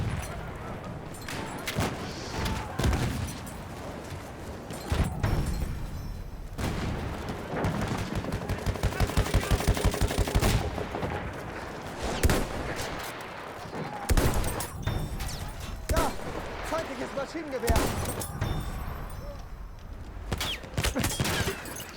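Battlefield 1 gunfire crackles in dense bursts and volleys, with a steady rapid machine-gun stretch in the middle and distant booms, continuing throughout under occasional talk.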